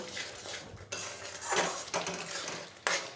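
A spice paste of Kashmiri red chilli powder, garam masala and a little sugar is stirred and fried in a pan for egg curry, with a spoon scraping and clinking against the metal in steady, close bursts, no talk.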